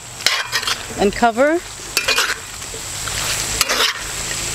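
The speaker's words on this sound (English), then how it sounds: "I'm going to check again and stir" Trinidad curry duck being stirred in a pot, spoon scraping and clinking against the metal in several short bursts over a soft steady sizzle, with a brief spoken phrase near the start.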